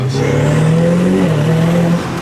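A Ferrari 488 Pista fitted with a Novitec exhaust accelerates hard, its engine note rising loud and close in one sustained pull with a brief dip as it shifts.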